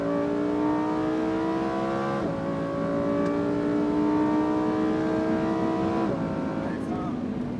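A 640 hp Lamborghini Huracan Performante accelerates hard on a circuit, its engine note climbing steadily through the gears with two upshifts, loud and close throughout, with some talk underneath.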